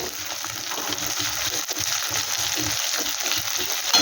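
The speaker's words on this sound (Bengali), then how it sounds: "এটা একটু আমি ভেজে নিচ্ছি আদার কাঁচা গন্ধটা চলে যাবে" Ginger sizzles steadily in a hot pan, a dense continuous frying hiss with faint scattered clicks, close and even throughout, with no voices.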